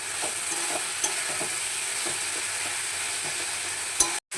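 Chicken frying in a pan for chicken and banana-flower cutlets, a continuous close sizzle with faint utensil taps and a sharp clatter just before it cuts off.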